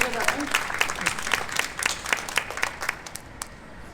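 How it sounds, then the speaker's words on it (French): Audience applause for Jean at a Hawkesbury local-history presentation: steady, dense clapping from a room full of people, with crisp individual claps standing out, tapering slightly toward the end. "ça vaut une bonne main d'applaudissements pour Jean"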